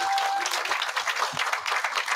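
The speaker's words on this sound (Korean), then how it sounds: "모두에게 함성 박수 함께 보내주시기 바랍니다" A dense crowd applauding at the opening of a campaign office for a provincial governor candidate, a thick, continuous wash of many hands clapping, loud and close, with faint cheering mixed in.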